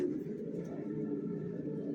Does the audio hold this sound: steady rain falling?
no